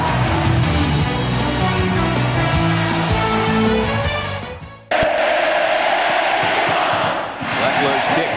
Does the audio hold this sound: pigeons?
no